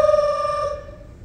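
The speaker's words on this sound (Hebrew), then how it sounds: "איך שאני יושב על מקומי אני מקבל טלפון" Telephone bell ringing during an amateur drama-club stage play in a hall, a single sustained electronic ring tone that rises clearly then fades out, with no talk over it.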